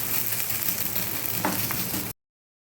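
Thin tofu batter spread like a dosa sizzles steadily on a hot pan, a constant close frying hiss with a couple of brief scraping touches, then abruptly cut off.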